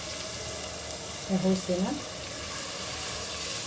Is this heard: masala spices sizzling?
yes